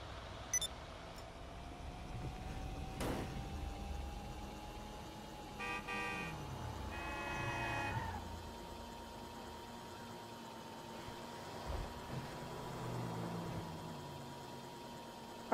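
A car's engine hums faintly through Grand Theft Auto 5 gameplay, with a short horn toot and a few brief electronic tones over a low, steady drone, no talking.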